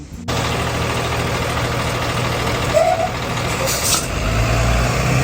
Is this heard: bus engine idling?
yes